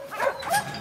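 A working farm dog lets out a short, close yip-like bark of two quick bursts.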